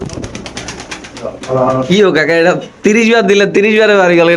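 Pigeons at a pigeon farm coo and flutter close by, with rapid clicking at first, while people talk loudly over them for most of the time.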